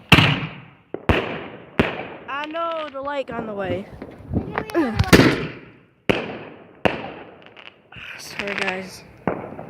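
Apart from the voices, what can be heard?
fireworks and firecrackers exploding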